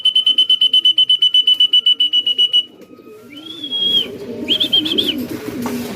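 Racing pigeons arriving at a flyers loft during a summer derby race: a fast run of loud, steady electronic beeps, then soft pigeon coos and bird calls with low voices and rustling nearby.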